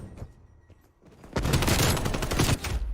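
Rapid gunfire in a competitive esports shooter match: a dense, loud flurry of overlapping shots that erupts after a quieter stretch and holds steady with no talk.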